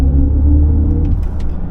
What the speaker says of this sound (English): once you give it a little bit of throttle, you get that sound also